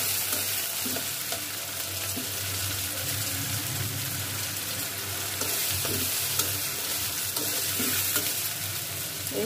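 Cooking in a twelve-year-old wok, a dense continuous sizzle with a low hum underneath and faint irregular stirring taps throughout, no voices.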